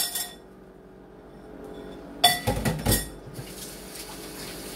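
A lid goes onto a crockpot holding chicken, clinking and clattering against the ceramic in a short cluster of ringing knocks after a quiet lead-in, then a faint settling rattle.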